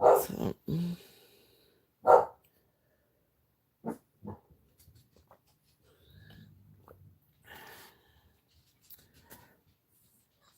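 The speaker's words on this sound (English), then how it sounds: "I apologize for the dogs barking." Several dogs bark indoors at home, with a couple of loud, sharp woofs at the start, then quieter scattered huffs and whimpering sounds as the room settles.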